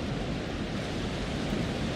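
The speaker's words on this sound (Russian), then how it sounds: "Здесь еще и водопад." A waterfall in a snowy video game landscape roars as a steady, broad rushing wash with no breaks, close and full, with no talk.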